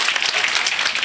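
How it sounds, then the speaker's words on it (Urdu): Dense, steady clapping from an audience at a mushaira poetry gathering, a brief close burst of applause with no voices over it. "تو ایک بار سب لوگ تالی ان کے لیے بجائیں"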